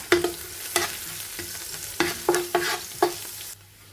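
Sliced onions frying with crushed ginger and garlic in a pan, a soft steady sizzle broken by several distinct stirring scrapes and clinks, close and fairly quiet, no talking.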